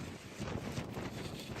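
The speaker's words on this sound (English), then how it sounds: "A bit windy today," Wind buffets the microphone in low, rumbling gusts that swell and ease, with no voices, on the John o' Groats Trail in Scotland.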